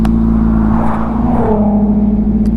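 A motorcycle is turned around, its idling engine giving a steady close rumble with a slight rise and fall in revs as it maneuvers.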